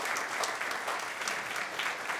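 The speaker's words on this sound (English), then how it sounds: "I'd like to give them all a round of applause as well." Continuous applause from a sizable crowd, steady clapping throughout at a moderate distance with no talking over it.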